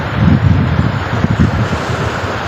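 Loud, steady rushing of the flooded Sani River in spate after heavy rain near Khambhaliya, Devbhumi Dwarka, Gujarat: a dense low roar and constant churning, heard up close with no voices.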